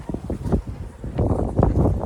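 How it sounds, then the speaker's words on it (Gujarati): Gusty wind buffets the microphone in rough, uneven bursts, loud and close, with no voices, on a farm field under cloudy skies during groundnut sowing. "પવન પણ બહુ છે"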